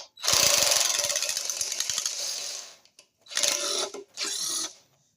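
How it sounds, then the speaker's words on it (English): A pneumatic impact wrench hammers loose bolts on a Honda GX160 small engine: one long rattling burst of about three seconds, then two shorter bursts after brief pauses, loud and close with no talk. "I'm using impact because it's quicker"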